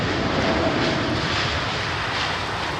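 Rolls-Royce aircraft engine running up at a wintry London Heathrow Airport, a loud sustained roar with a faint whining tone early on, steady and continuous with no speech.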